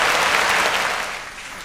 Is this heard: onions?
no